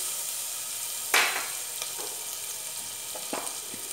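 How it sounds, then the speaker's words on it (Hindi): Grated ginger and garlic paste dropped into hot oil with roasted cumin for an Awadhi tehri, a sudden loud sizzle that settles into steady frying hiss with faint stirring scrapes, no talking. "जीरा भून चुका है और इसमें हम अदरक का जो हम ग्रेट कर लिए हैं वो डालेंगे और लहसुन का पेस्ट"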